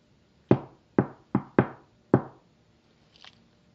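Five sharp, close knocks on a hard surface during a ghost hunt at Dixwell fall in an uneven pattern, followed by a faint, brief sound in a quiet room.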